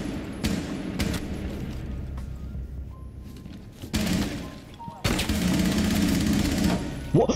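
Rainbow Six Siege gunfire comes in bursts of rapid automatic shots and sharp single reports, the loudest burst near the end, with a player's voice talking over it.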